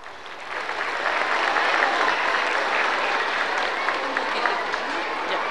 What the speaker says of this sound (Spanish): Y lo recibimos con fuertes aplausos.